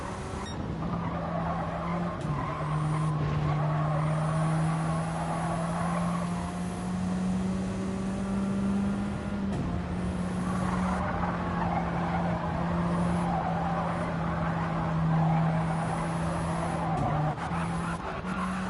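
A Radical race car engine in a racing video game revs and drones steadily, with long sustained tones that rise and shift between gears while tire squeal and skidding noise run underneath throughout.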